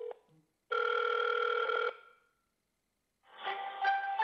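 An outgoing call on a Samsung phone rings back twice, each a steady electronic ringing tone lasting over a second, separated by a silent pause, with no talking.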